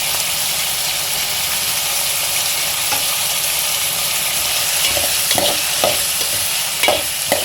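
Vegetables with potatoes fry for a bansi rava upma, a constant close sizzle broken by repeated spatula scrapes and clinks against the pan, the stirring growing more frequent toward the end, with no voices.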